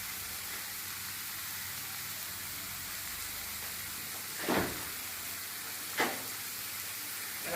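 Mushroom thoran with egg sizzles in a pan with a soft, steady hiss, and two brief scraping stirs rise above it.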